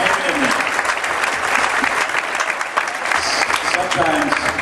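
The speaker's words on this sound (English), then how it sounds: "how about a round of applause for all the people, yourselves, for the Pancake Day, law enforcement" A crowd at a Pancake Day pageant applauds steadily and loudly throughout, dense clapping holding an even level with no letup.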